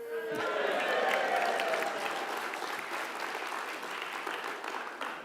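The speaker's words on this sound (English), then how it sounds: "2 rounds of applause, my first minute" A political party conference audience breaks into strong applause for a speaker that holds steady throughout, with a brief voice at the very start.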